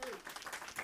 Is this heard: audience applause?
yes